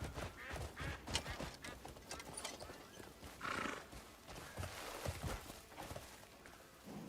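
Video-game horse whinnies loudly in the middle while clip-clopping hooves and busy game sounds patter throughout.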